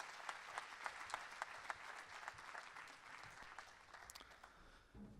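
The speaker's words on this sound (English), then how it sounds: "a round of applause, please, for my brand new Jazz Brothers" An audience applauds a jazz band with sustained, even clapping that sounds a little distant and fairly soft, continuing for several seconds.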